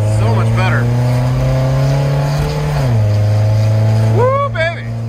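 A car with a new exhaust accelerates downhill at about 40 mph, its engine holding a strong, steady droning hum that drops in pitch midway as it shifts. Brief voices come through over the engine.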